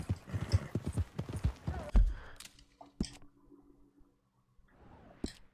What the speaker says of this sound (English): Pues esto no es mi caballo.